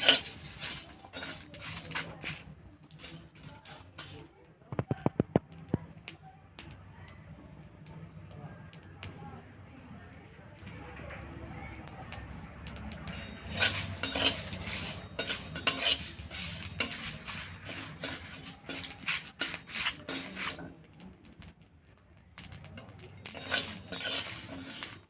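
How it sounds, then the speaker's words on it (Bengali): Spice mix frying in a pan for aloo paratha, stirred repeatedly with a metal spoon that scrapes and clinks against the pan over a soft, steady sizzle, close by, with a few quieter pauses. "মশলাটা আবার ভালো করে ভেজে নেব।"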